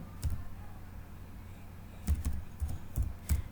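Sparse clicks of someone typing code on a computer keyboard, scattered single keystrokes with pauses between them, quiet and close.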